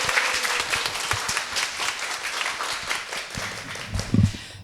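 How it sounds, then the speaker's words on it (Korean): An audience at a monthly book club author event gives sustained, warm applause, a dense even patter of many hands that continues throughout, with a brief low murmur near the end. "다른 어떤 때보다도 박수 소리가 크고 뜨겁습니다"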